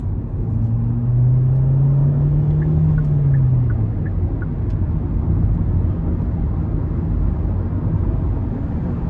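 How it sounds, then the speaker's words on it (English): A steady, loud low engine rumble from a 2021 Hyundai Elantra SEL with a rising pitch sweep as it accelerates hard onto an interstate, continuous road noise beneath, no voices. "I actually like the sound coming from the car under heavy throttle."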